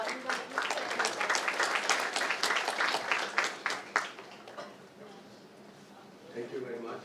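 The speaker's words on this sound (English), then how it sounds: "Let's give him a warm welcome and a warm round of applause" An audience at a manufacturing summit gives a speaker a warm round of applause, dense clapping that swells and then thins out, with a voice speaking over it.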